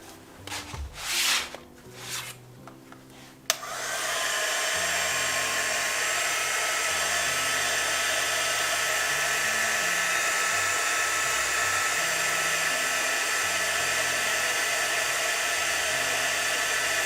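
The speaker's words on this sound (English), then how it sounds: "I'm going to mute myself real quick so you don't hear the dryer" A clothes dryer or similar blower running steadily, a loud continuous whoosh that starts abruptly after a few seconds of quieter, scattered noises and then holds constant to the end.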